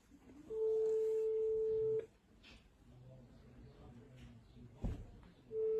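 A ringback tone heard while dialing a phone number, a steady tone running about one and a half seconds, a pause with background noise, then the tone starting again, fairly close.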